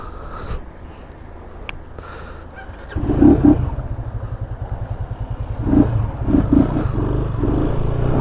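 Yamaha FZ 250 motorcycle running with its air filter removed, a low idle chugging that rises at about three seconds into a steady throbbing engine note with short revs, heard close up with no speech.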